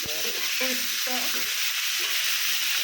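Drumstick pieces and sliced bitter gourd sizzle steadily in a hot pan with salt, a continuous close hiss of frying oil with faint clinks of stirring throughout.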